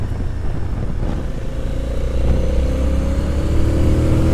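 A Ducati S4R motorcycle engine runs close by with a steady, loud rumble that swells slightly toward the end, with no voices.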